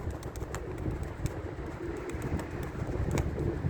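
Tumbler pigeons coo softly in a loft, a low continuous murmur with occasional sharper bird calls over a steady noisy background.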